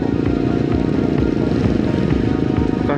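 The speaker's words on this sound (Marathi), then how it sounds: "माझ्यासमोर आहे ती BMW बाईक आहे" A BMW motorcycle engine drones close and loud in a steady, unbroken rumble, without pauses or other sounds.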